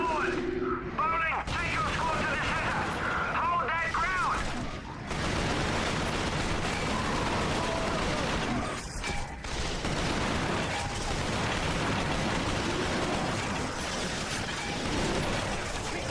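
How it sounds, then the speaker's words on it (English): Dense gunfire and a grenade blast rage through a Resistance: Fall of Man battle, loud sustained shots and booming impacts with shouted voices cutting in near the start. "Grenade out."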